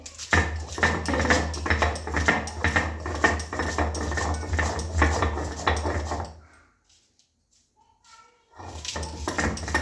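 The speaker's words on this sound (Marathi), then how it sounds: "वाटूया मस्तपैकी पाट्यावरती।" Garlic and chillies are ground by hand on a traditional stone slab in a village kitchen, making rhythmic scraping and knocking strokes close by that stop briefly for a near-silent gap and then start again.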